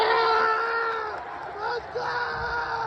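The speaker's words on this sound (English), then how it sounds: "audience members excitedly yelled along to the declaration and cheered the resulting action" A movie theater audience yells and cheers excitedly at a chicken jockey scene, a dense crowd of voices screaming together loudly and continuously, rising again after a brief dip.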